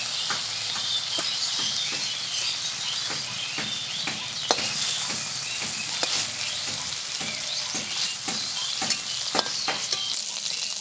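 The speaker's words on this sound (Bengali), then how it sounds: "চিংড়ি মাছগুলো খুব ভালো করে ভেজে নিয়েছি।" Prawns frying in a wok, a loud steady sizzle with frequent sharp spatters and stirring clicks, close up and continuous without talk.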